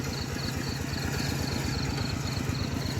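A farm tractor engine runs steadily while preparing a field for planting corn, giving a continuous rhythmic low chugging with a faint higher whine, nearby and unbroken.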